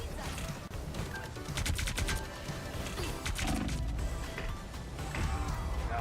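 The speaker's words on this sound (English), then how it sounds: "Shotgun with burst." Shotgun bursts in a video game sound as rapid clusters of loud blasts over dense, busy game noise and effects, heard continuously under the action.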